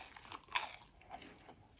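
A crisp bite into a toasted croque-monsieur sandwich, one sharp crunch near the mic followed by a few softer crackles of chewing, with no talk.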